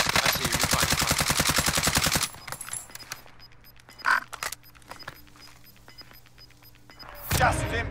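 Loud, rapid automatic gunfire in Call of Duty Modern Warfare rattles for about two seconds, then cuts to quieter game sounds with scattered shots and voices talking.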